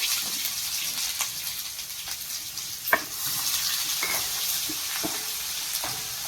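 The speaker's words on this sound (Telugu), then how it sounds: "ఉల్లిపాయలు వేగాలి." Onions fry in a pan with a soft, continuous sizzle, punctuated by scattered stirring clicks and one sharp knock midway, quiet and close.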